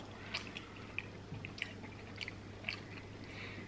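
Crunchy chewing of a Milo chocolate treat: a quiet, close-up series of irregular crisp bites and crackles over a low steady hum.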